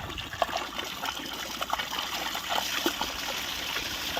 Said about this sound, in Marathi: आता पाणी आलंय, चालू केलं त्याने.